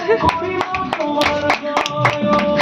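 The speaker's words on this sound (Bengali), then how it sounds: "এটা হাততালি দেওয়া হচ্ছে" Hands clapping at a Saraswati puja celebration, a lively run of sharp, closely spaced claps from several people, loud and near, with a faint tonal background underneath.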